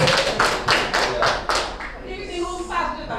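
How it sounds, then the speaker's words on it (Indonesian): Hands clapping in a small group, likely a classroom or training session: a handful of loud, evenly spaced claps that fade into scattered lighter ones, with faint voices underneath. "Kita beri aplaus dulu ya."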